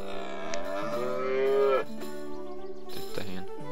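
A cow moos in South Park: The Stick of Truth, a long loud drawn-out lowing call with a wavering pitch, followed by a second shorter moo, heard alone without talk.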